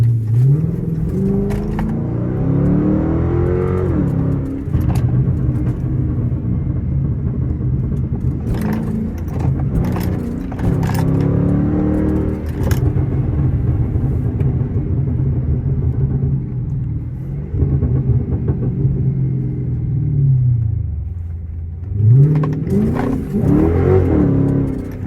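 A Chrysler 300 engine revs loudly while driving on worn tires, its pitch rising and falling in repeated surges over a steady rumble, with a final strong climb near the end.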